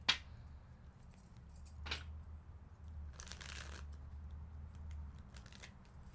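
Tarot cards are shuffled by hand in a few brief bursts of riffling and slapping, close and fairly quiet over a low steady hum, with no talking.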